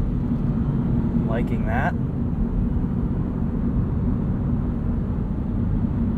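The engine of a 2022 Toyota GR86 Premium automatic, boosted by active sound control through the cabin speakers, holds a steady loud drone heard from inside the car, and a driver speaks briefly over it.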